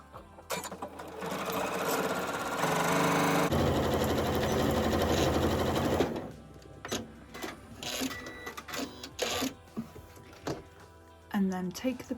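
A sewing machine runs in two long bursts as it stitches fabric for a small scrap-fabric tote. The steady whirring is close and loud for about six seconds, then gives way to quieter handling noises and short bumps.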